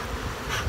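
Honey bees drone around an open hive during an inspection, a dense, steady buzzing close to the microphone that swells slightly at the end of the brief moment.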